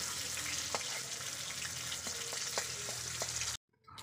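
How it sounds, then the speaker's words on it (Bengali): Koi fish frying in hot oil give a steady, dense sizzle with small pops and stirring clicks, close and loud, cutting off abruptly near the end. "এখানে মাছ ভাজা হয়ে গেছে,"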